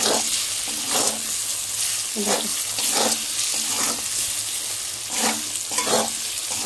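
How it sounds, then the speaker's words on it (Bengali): Eggplant frying with spices in a pan for a hilsa curry gives a steady, close sizzle, broken every second or so by the scrape and clatter of stirring. "এই দেখো মশলা দিয়ে বেগুনটাকে ভালো করে ভেজে নিচ্ছি।"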